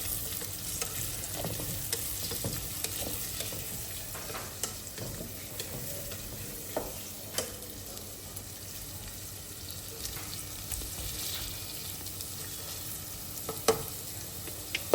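Onions frying in a pan for palak chicken, a soft steady sizzle with repeated light clicks and scrapes of a stirring spoon, fairly quiet and without talking.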